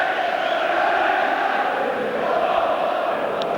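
Large football crowd of about 32,000 at Elland Road during a 1991 League Cup semi-final second leg, Leeds against Manchester United, a steady distant roar and murmur filling the stadium.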